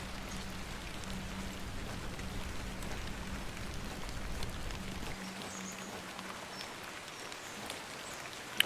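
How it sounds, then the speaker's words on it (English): Steady rain hisses across the whole stretch in The Excavation of Hob's Barrow, a dense even patter with a faint low hum that drops away midway, no voices. "I love the rain sound, by the way."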